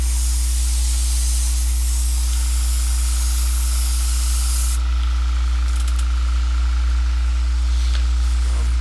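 An airbrush sprays paint onto an Overlord model in a steady, close hiss that runs continuously, its airy high end easing off about halfway through as the spray settles to a softer, even flow.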